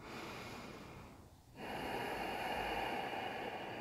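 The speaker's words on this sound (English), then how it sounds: "Breathing in and out through your nose" During an intermediate yoga class, slow breathing through the nose comes across as a long, airy exhale, a brief pause, then a strong, close inhale filled with breath noise.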